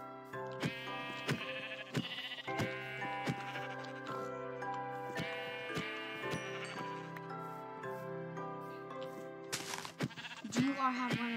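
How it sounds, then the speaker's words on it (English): Sheep in the video game Minecraft bleat several times in short wavering calls spread across the passage, heard over a sustained harmonic backdrop, with little else breaking in. "Sheep exists."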